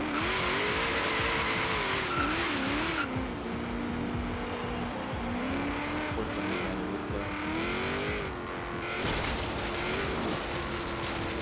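A 1993 Ford SVT Cobra R Foxbody in Forza Horizon 3 drives near train tracks, its V8 engine droning and rising and falling in pitch as the car accelerates and shifts, with tire squeal mixed in.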